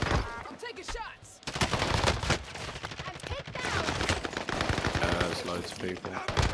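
Rapid automatic gunfire from a first-person shooter game, with the KGM40 and its bursts and fusillades dense and loud throughout, mixed with game effects and occasional voices.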